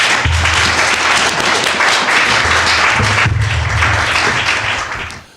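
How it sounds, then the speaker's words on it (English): An audience at a talk on a just energy transition gives a round of applause, loud and dense, holding steady before tapering off at the end. "let's give a round of applause up now"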